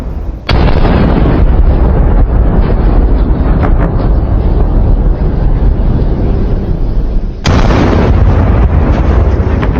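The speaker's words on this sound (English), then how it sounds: "they were continuously pursued by Ukrainian artillery fire" Ukrainian artillery fire pursuing a retreating Russian column, heard as loud, sustained blasts and rumbling detonations filling most of the stretch, with a sharp burst near the start and another heavy explosion toward the end.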